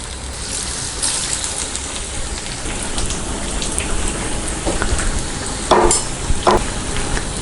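Bread pakoda fries in hot oil, a loud, dense, continuous crackling sizzle like heavy rain, with a few sharper spits and pops near the end.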